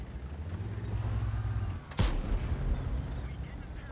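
A single heavy tank cannon shot in World of Tanks, one sharp booming blast about midway that rumbles out over a low engine drone, with a player's voice talking quietly around it.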